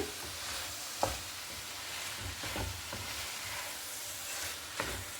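Cooked rice with coriander leaves is mixed in a pan, a quiet, steady scrape and shuffle under a low sizzle with a few soft knocks of the utensil, heard close up and without talk.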